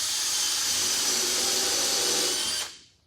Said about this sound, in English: I actually go off to the edge to drill it and screw it.